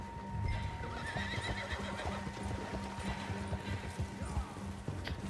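A horse in Red Dead Redemption 2 whinnies over a steady clip-clop of galloping hooves on open ground, a dense, continuous game mix with a faint background hum.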